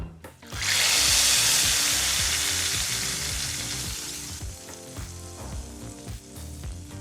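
Ghee-roasted dry fruits tipped into hot payasam give a loud burst of sizzling that gradually settles into softer bubbling and crackle, close up with no voices.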